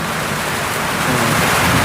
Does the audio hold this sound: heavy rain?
yes